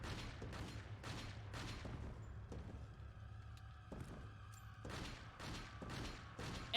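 Repeated gunshots are fired at an enemy in Resident Evil 4, a string of sharp, evenly spaced cracks with short gaps between bursts. They play faint and low in level with no voice over them.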